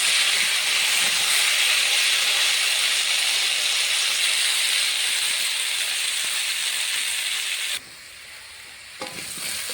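Vegetables, potato and leafy greens, frying uncovered in a pan, giving a loud, steady broadband hiss that holds for most of the clip, then drops sharply near the end with a brief clatter.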